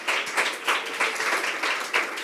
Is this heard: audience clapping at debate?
yes